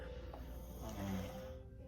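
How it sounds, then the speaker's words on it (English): Loud, rumbling snoring from a sleeping person, one drawn-out breath swelling in the middle, with a steady low hum beneath. "you is snoring too loud"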